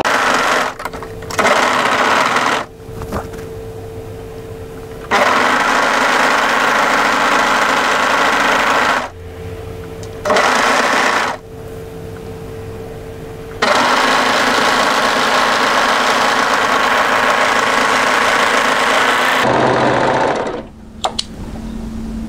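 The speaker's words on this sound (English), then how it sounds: "Now we're going to overlock" An overlocker serger stitches a seam on a raglan swing sweater, its fast steady whir running in repeated bursts broken by short pauses as the fabric is guided along.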